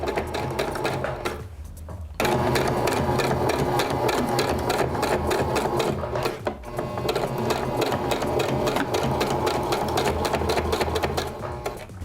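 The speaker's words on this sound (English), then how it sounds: "Couple stitches forward and then a few stitches back just to simply lock that into place." A sewing machine stitches forward and then back to lock a seam on a convertible ponytail and three-quarter wig piece, a loud, continuous rapid mechanical whir with dense needle clatter after a brief lull near the start.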